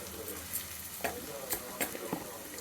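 Onion frying in a hot kadai, a steady hiss of sizzling oil with a few sharp scrapes and clatters from stirring at irregular moments, close and fairly loud.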